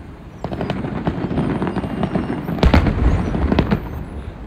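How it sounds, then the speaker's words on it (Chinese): Repeated New Year fireworks explosions at a busy outdoor Chinese street celebration, a steady run of crackling bangs with a heavier burst of booms near the end, loud over background crowd noise. "烟花好美，你更美。"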